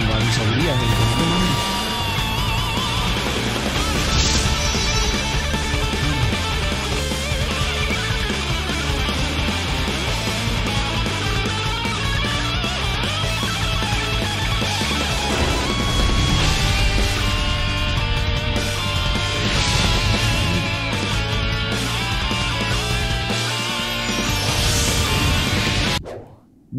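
Dynasty Warriors 7 plays its loud, dense opening sound with swooshes, crashes and layered music, filling the whole stretch nonstop before cutting off abruptly at the end.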